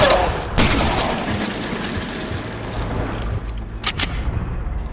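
Gunfire in a shootout from the video game L.A. Noire: a few sharp loud shots, then dense noisy bursts and a cluster of cracks near the end.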